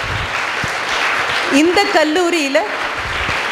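An auditorium audience at a Women's Day event claps in a steady, dense wash of applause while someone speaks briefly over it.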